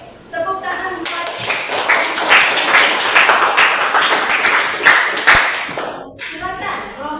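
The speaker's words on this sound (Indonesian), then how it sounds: "tepuk tangan buat" A group claps hands together at a classroom session during a religion lesson on the suffering and death of Jesus. The loud, brisk clapping starts abruptly, continues steadily for several seconds and stops sharply, with a voice heard before and after.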